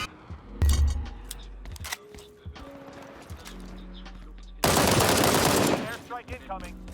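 Gunfire in the video game World War 3: scattered sharp shots and bangs, then a loud dense burst of rapid automatic fire near the end, with game sound effects and some voice underneath.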